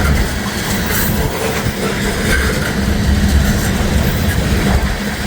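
A local train passes nearby, giving a loud, steady rumble of wheels and carriages that holds for several seconds with faint rattling.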